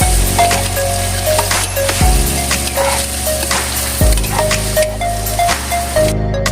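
Chicken liver sizzles and fries steadily in a hot pan, with occasional stirring scrapes and clatters breaking into the continuous crackle, close and loud with no talking.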